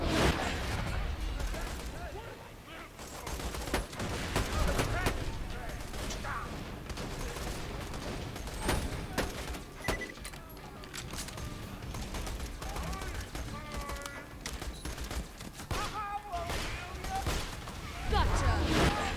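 Sniper rifle fire in the Borderlands video game comes as sharp, rapid shots and bursts amid busy combat effects. It plays fairly quietly under a person talking.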